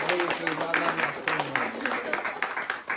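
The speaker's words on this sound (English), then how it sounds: "A round of applause for all of yourselves." Applause and clapping from an audience, steady throughout, with someone talking over it.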